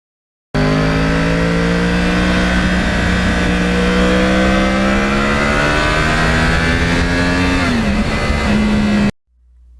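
A Yamaha R1 crossplane sport motorcycle engine holds a loud, steady high-rpm howl close by, the pitch climbing gradually before dipping briefly and settling, with no voices.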